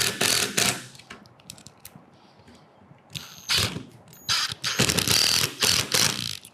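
A hand screwdriver drives two large tapered-head screws into a door while installing a Quantum Pixel lock, giving close, clicking ratchet bursts separated by short pauses.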